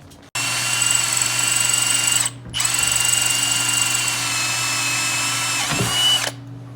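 A power drill whines steadily at close range, briefly pausing once, then continuing before stopping, with a low motor hum throughout.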